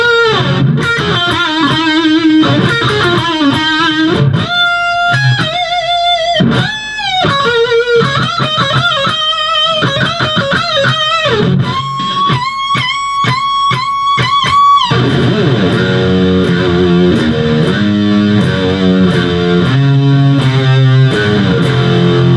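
Distorted electric guitar solo, fast runs of bright notes and sustained bends played loud and up close, ending in rapid tremolo-like picking, with no talking.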